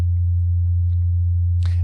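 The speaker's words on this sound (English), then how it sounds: "I have a low sine wave tone that I'll play through this plugin" A low sine wave test tone, played through a limiter plugin, holds a loud, pure, unwavering hum for the whole stretch, with faint ticks and a brief noisy burst near the end.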